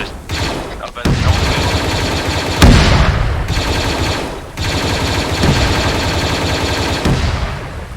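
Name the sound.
video game cannon gunfire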